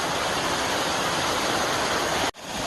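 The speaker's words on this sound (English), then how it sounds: "plenty of waterfalls." Waterfall on a creek trail in the Big South Fork, a steady full roar of rushing water that fills the scene, loud and continuous, cutting out sharply near the end.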